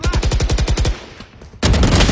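Automatic gunfire in a shooter video game, a loud rapid burst of evenly spaced shots that stops for a brief pause and then resumes in a dense, loud stream.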